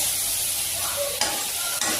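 A paste of turmeric and chilli powder hits hot oil for a tangra fish curry, giving a bright sizzle with spoon-stirring scrapes and two sharp spatter bursts, close and steady, with no speech.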